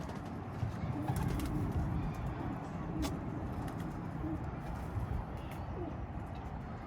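Mardin pigeons coo at a coop, their soft calls half-buried in a constant outdoor rumble, with faint voices in the background.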